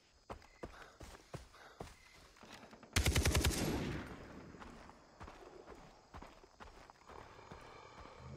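In the Far Cry 3 video game, a sudden loud burst of rapid automatic gunfire rings out midway, amid scattered footstep-like thuds and ambient game noise, with no one speaking.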